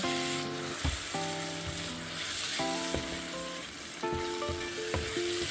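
Ground egusi frying in a pot with crayfish added, a loud steady sizzle broken by repeated scraping stirs and clinks of the spoon against the pot, close up, with no talking.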